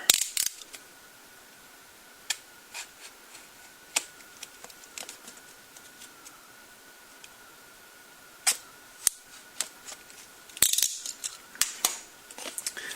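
Clear circle stickers on a Samsung Galaxy S21 5G box being cut, small crisp clicks and ticks scattered over a faint steady whine, close up, with a denser cluster of snaps near the end.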